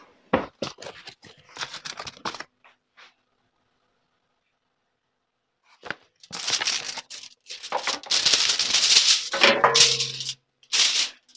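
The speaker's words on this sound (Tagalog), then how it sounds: "Ito ang ating aluminum foil." Aluminum foil is unrolled and crinkled at close range in bursts of crisp crackling and rustling, separated by a quiet gap, with a bit of talking in the room.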